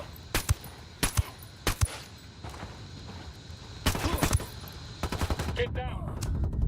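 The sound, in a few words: gunfire in the video game Ghost Recon Wildlands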